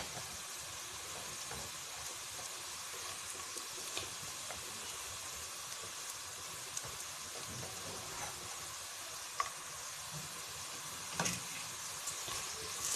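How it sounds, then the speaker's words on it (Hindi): Chopped onion and grated garlic fry gently in a pan, giving a low, even sizzle with occasional faint scrapes and clicks. No voices are heard. "इसको अच्छे से फ्राई करेंगे और फिर इसके अंदर हम लोग लहसुन, ग्रेटेड लहसुन शामिल करेंगे।"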